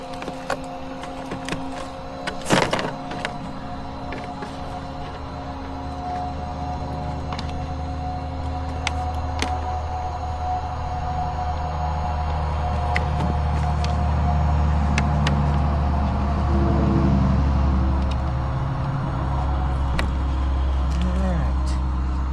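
An Arrma RC car on a Turnigy BoltX 3S LiHV pack runs at full throttle through leaves, a buzzing electric motor whine that swells and grows louder toward the end, with a sharp knock early on and someone talking over it.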